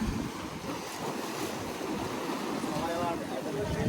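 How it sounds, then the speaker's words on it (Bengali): Sea waves surge onto Digha beach at high tide, a steady roaring wash of surf mixed with wind buffeting the microphone, continuous and fairly loud throughout. "ওখানে পুরোটাই জোয়ার জোয়ার চলে এসছে"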